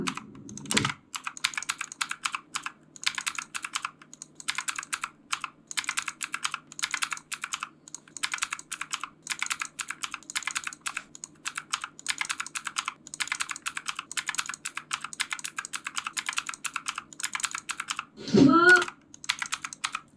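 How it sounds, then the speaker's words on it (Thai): Rapid, steady keyboard typing with clicky keystrokes throughout, close up, and one louder thump near the end. "เราก็ตัดช่องว่างออกให้หมดเอาแค่เสียงแป๊กนี้นะครับ"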